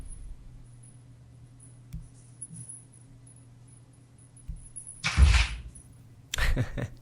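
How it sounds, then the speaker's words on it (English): A dog bangs against a door indoors: two loud, close bursts of thumping and scraping, each lasting under a second, with a quiet room and faint low hum between them. "my dog's banging at the door"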